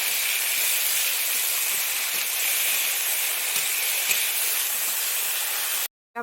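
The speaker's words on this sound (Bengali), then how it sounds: "দিয়ে আমি ভালোভাবে ভেজে নিচ্ছি আলুটাকে" Potatoes frying in hot oil: a steady, dense sizzling hiss that holds level throughout, close and fairly loud, cutting off briefly just before the end.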